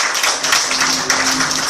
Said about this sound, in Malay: Tepukan paling gemuruh untuk Sifu Mazlan kita